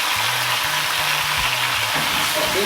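Oxtail sizzling in vegetable oil in a pot over very low heat, a steady, dense frying hiss that holds throughout at close range, with faint low hum and clatter beneath it.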